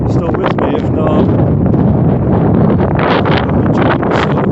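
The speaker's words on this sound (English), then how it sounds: "Oh, this wind is so powerful today." Strong gusting wind buffets the microphone outdoors in Calgary, a loud, continuous roar with rustling surges.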